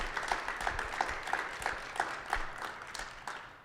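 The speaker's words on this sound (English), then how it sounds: "So we'll give our panelists a round of applause." A small panel-event audience gives a brief round of applause, faint and somewhat distant, with scattered claps rising and fading over a few seconds.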